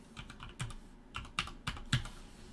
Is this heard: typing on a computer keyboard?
yes